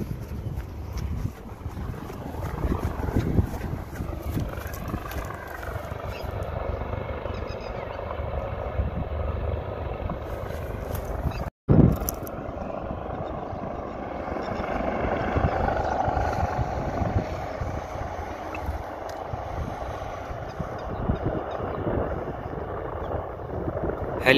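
A helicopter's steady rotor roar fills the scene as it lands in a school ground, mixed with wind buffeting the microphone, continuing loud and close throughout with a brief dropout midway.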